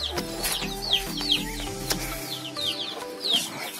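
Village chickens in a yard cluck in short, repeated bursts at close range, scattered across a few seconds over a low background hum.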